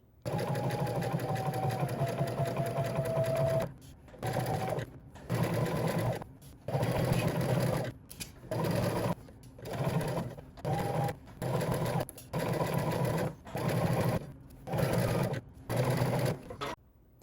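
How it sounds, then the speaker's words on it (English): A sewing machine topstitches fabric one inch from the edge while sewing a summer top. It runs in repeated short bursts of steady mechanical whirring, separated by brief pauses. "we can go ahead and top stitch 1 inch from the edge"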